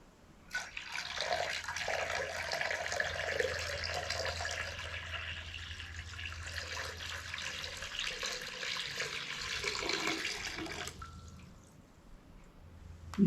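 Water poured from a pitcher into a bowl during a congregational water-gathering ritual, a steady splashing, trickling stream lasting about ten seconds, close and moderately loud with no talk.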